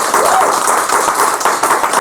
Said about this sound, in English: Let's give another round of applause for Marsha, who just performed.